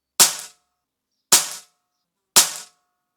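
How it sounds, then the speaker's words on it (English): An HFT500 air rifle fires three pellets at a target, each a sharp close crack with a brief decay, evenly spaced about a second apart with silence between. "I'll shoot the box on the second target a second."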